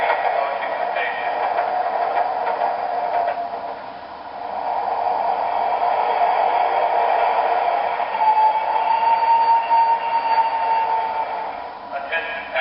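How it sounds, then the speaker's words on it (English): MTH R-36 World's Fair model subway train arriving, heard as a steady rolling rumble with a faint rising whine, under a recorded station announcement voice. "The train is approaching the station."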